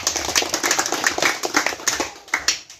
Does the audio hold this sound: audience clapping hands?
yes